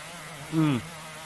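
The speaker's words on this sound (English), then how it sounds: "Another round of annoying buzzing from the tiny pest." A tiny cartoon pest makes one brief insect-like buzz, a short droning burst over quiet background.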